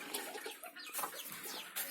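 Young country chickens cluck and peep softly in a small farm shed's chick-rearing section, with short, faint, high calls repeating at close range.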